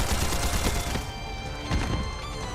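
An old antique gun firing in a battle scene of Trails Beyond the Horizon, dense loud booming shots layered over a busy combat mix throughout.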